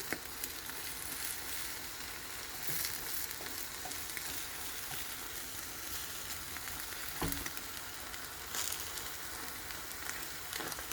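An egg omelette with vegetables frying in a medium to large pan, a steady dense sizzle and crackle running throughout with occasional stirring scrapes and small pops, close and continuous.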